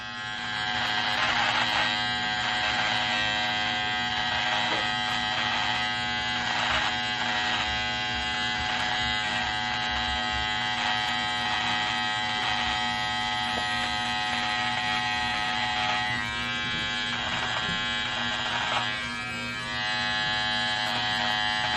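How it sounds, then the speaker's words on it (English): Philips Norelco 3100 beard trimmer cutting a soul patch, a close, steady electric buzz with slight shifts in pitch and texture as the blades move through the hair. "I'm going to use the tight trimmer on what would be my soul patch"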